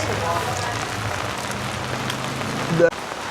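Steady rain falls on surfaces outdoors in Da Nang, Vietnam, a dense hiss running throughout at moderate loudness, with some low background rumble and a brief louder clatter near the end.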